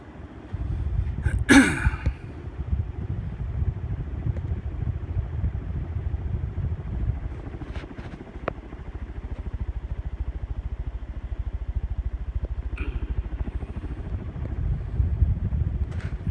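A ceiling fan on high speed gives a low, steady whooshing hum with a faint rhythmic flutter from the spinning blades, continuous and close, broken by a brief clatter near the start and a few light ticks.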